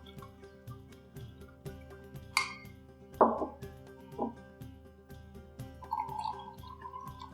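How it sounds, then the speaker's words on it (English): Freshly brewed pour-over coffee, made at about 240 degrees, splashes into a sugared Irish coffee drink in a few scattered drips and plops over a faint, steady background. "From there, you're going to add freshly brewed coffee."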